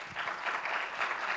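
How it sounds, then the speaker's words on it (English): Brief, moderately faint applause from a crowd at a zero-waste festival, a soft continuous wash of clapping lasting just over a second with no speech over it. "One more time, I'll give them a round of applause."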